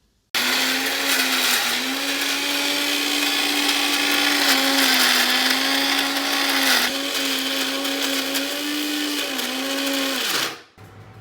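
A kitchen mixer grinder whirs loudly and steadily for about ten seconds, grinding coriander seeds and spices for a traditional wild mango chutney, its motor pitch wavering slightly before it stops abruptly at the end; no one talks.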